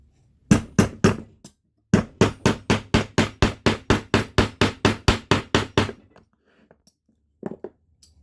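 Steel hammer driving a doming punch into sheet metal in a doming block: a few quick strikes, a pause, then a steady run of about fifteen evenly spaced, sharp, loud metallic blows, with two softer taps near the end.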